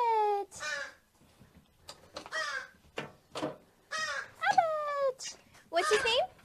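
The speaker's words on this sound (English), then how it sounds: "Crows! The crows! The crows! Hello, crow!" Crows at the Alveus animal sanctuary give a run of loud, harsh caws in quick bursts, close by, with excited human voices talking between and over the calls.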